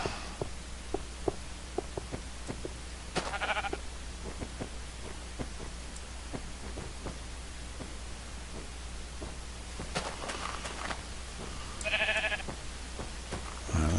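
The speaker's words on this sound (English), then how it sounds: "Alright, sheep, head this way." Sheep in Minecraft bleat in a few short calls, one early and two near the end, over a steady hiss like rain with scattered faint ticks and no voices.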